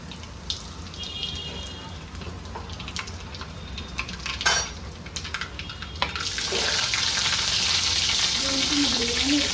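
Mustard seeds, cumin and asafoetida hit hot oil in a kadhai. Light crackling grows into a loud, dense, steady sizzle for the last few seconds.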